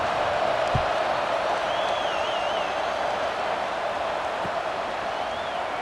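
Stadium crowd in the College Football 26 video game as a kickoff approaches, a steady broad roar of many voices held at an even level throughout, with a couple of brief low thumps early and late.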